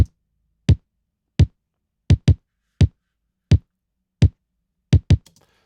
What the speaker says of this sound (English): we have a kick drum strike on the first and third beats of both the first and second bars of this pattern